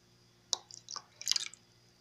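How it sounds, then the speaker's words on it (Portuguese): Vinegar poured into a pot of cassava starch dissolved in water while making homemade craft glue: a quiet single drip-like splash, then a short burst of splashing liquid a moment later, close and alone. "a gente vai acrescentar aqui o vinagre"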